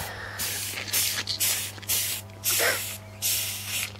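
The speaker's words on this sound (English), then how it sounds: "That noise they make is by rubbing their back." A Xylotrupes ulysses rhinoceros beetle hisses by rubbing its back, giving loud, close breathy bursts that come in a regular series of about five pulses, each lasting roughly half a second, over a steady low hum.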